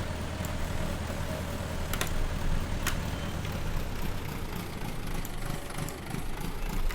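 Tractor engine running steadily in Farming Simulator 19, a low, even drone that holds a constant rumble throughout with a few faint clicks on top.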